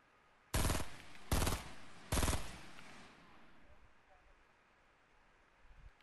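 Three loud, sharp bursts of gunfire in a duo shooter video game, evenly spaced about a second apart, then fading into quiet windy ambience.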